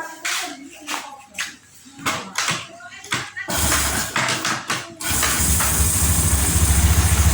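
A few sharp mechanical thumps and scrapes from the kick-starter of a 2022 Honda Scoopy scooter prone to stalling and battery drain, then the engine catches and settles into a steady, close idle.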